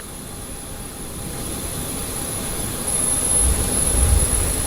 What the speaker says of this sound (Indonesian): Pesawat yang ditumpangi Presiden RI Prabowo Subianto tiba di Kalimantan Sabtu siang